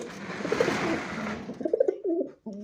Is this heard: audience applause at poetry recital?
no